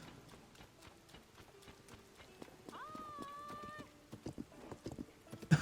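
Horse hooves clip-clopping in a rapid, steady rhythm in Zelda: Tears of the Kingdom, with a short whinny partway through, then louder scattered hoof thuds near the end; fairly faint overall.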